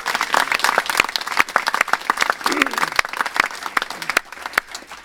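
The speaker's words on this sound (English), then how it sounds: "Please give them a round of applause" Audience applause at a ribbon-cutting ceremony for a company's new headquarters, a room of hands clapping in dense irregular bursts for about five seconds, with voices chattering faintly underneath.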